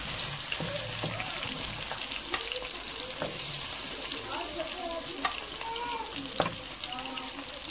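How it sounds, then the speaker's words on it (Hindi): Chicken tikka pieces fry in a pan with a steady close sizzle, broken by scattered clicks and scrapes as they are stirred and turned. "दोनों तरफ से बहुत अच्छे से फ्राई हो गए हमारे टिक्के"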